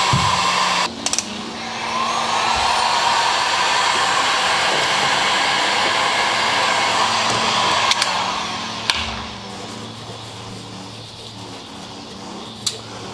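Heat gun warming vinyl wrap on a car fender, a steady loud blowing roar that starts after a few clicks, holds for several seconds, then drops to a softer whir with occasional handling knocks.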